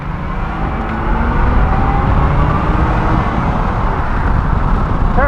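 A 1980 Corvette with a freshly rebuilt carburetor roars steadily and loudly up close as it revs toward 5,000 RPM. A brief rising whine near the end hints at a shift.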